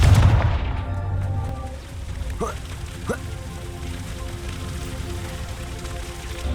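Confringo blasting spell cast in Hogwarts Legacy: two quick, sharp blasts a little under a second apart, each with a short trailing whoosh, over a steady low game background.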